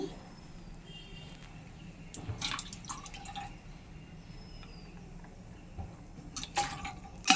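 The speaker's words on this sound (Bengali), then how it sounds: "জল আর ভিনিগার ভালো করে মিশিয়ে নেব" Vinegar and water are stirred with a spoon in a small container, faint light clinks and liquid swishes coming in brief bursts against a quiet room background.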